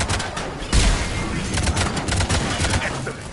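Rapid bursts of turret gunfire in Mass Effect 3 Legendary Edition, dense crackling shots filling the scene amid battle noise, with a voice shouting briefly.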